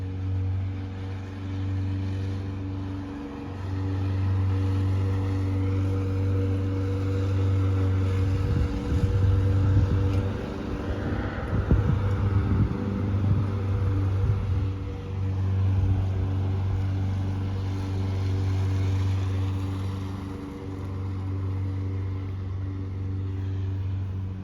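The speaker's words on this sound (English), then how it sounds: "what it sounds like to listen to my neighbor mowing across the street when I'm all the way basically in my house" A neighbor's gas lawn mower across the street, heard from indoors, drones steadily as a muffled, low engine hum that swells and fades slightly as it moves.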